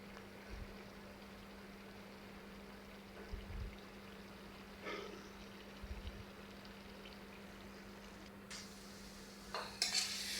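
Chopped onion frying in oil in a pot gives a quiet, steady sizzle, with a few soft scrapes of stirring and some light clinks of utensil against metal toward the end.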